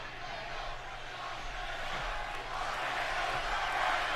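A loud wrestling crowd at WWE Friday Night SmackDown in Des Moines, a constant dense roar of arena voices that swells slightly toward the end, with no clear individual speech.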